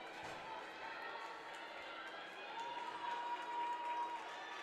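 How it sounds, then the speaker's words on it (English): Fans at a North Dakota high school girls hockey state tournament game between Grand Forks and the Devils cheer and shout in the arena, a fairly faint, steady crowd roar that swells slightly toward the end. "Fans getting loud, cheering on their team."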